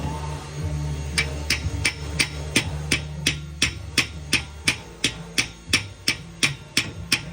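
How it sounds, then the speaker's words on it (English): A dipstick tube is hammered into a Pontiac GTO engine with a long run of sharp, evenly spaced metallic blows, about two or three per second, loud and close, ringing over a faint low background hum. "In this clip coming up, you could just hear how hard I'm hammering"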